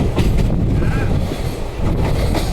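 Passenger train moving at about 40–50 km/h on a Himachal Pradesh rail journey, a loud continuous rumble with rattling carriage noise heard from inside the moving train.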